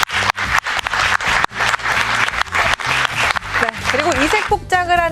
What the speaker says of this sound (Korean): 크게 박수 한번 주십시오.